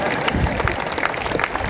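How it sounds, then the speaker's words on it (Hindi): Scattered applause from an audience at a Hindi stand-up comedy show, a brief burst of clapping with crowd murmur and some talk underneath. "अब ताली बजाओ"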